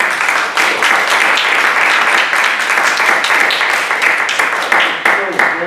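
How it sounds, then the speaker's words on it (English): Warm applause from a workshop audience fills the room, a steady dense patter of many hands clapping that continues throughout at close range. "we should all just give him a warm round of applause"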